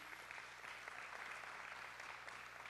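A church congregation claps in sustained applause, a soft, even patter that sounds somewhat distant and quiet, with no voices over it.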